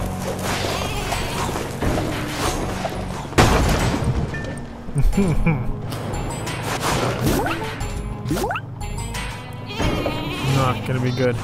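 Sheep in the Flockers video game bleat repeatedly over crashing and whacking game effects, busy and loud throughout with sharp impacts, someone talking over much of it.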